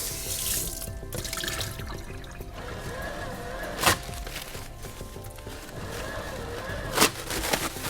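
Water from a tap runs steadily into a sink as a basin is rinsed during a nurse aide bed-bath routine, a continuous moderate splashing stream with two brief louder clatters.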